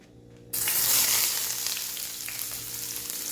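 Onions hit hot oil after a brief quiet moment, erupting into a loud, bright, continuous sizzle that gradually settles slightly while staying strong, close up with no talking.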